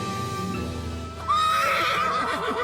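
A horse lets out a loud, close whinny midway, preceded by low rumbling and faint hoof clip-clops.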